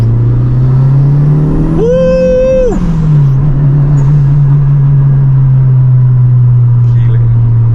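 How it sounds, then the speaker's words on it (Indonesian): A Mitsubishi Evo 5 drones steadily from inside the cabin, its engine note climbing slightly before a short tonal turbo blow-off sound around the shift, then settling into a constant hum. "Enak banget nih blow off-nya."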